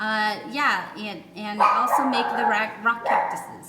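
A pet dog yips and barks in short excited bursts, close by and mixed in with a person talking over it.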